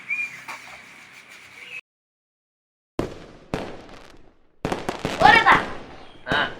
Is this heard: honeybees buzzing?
no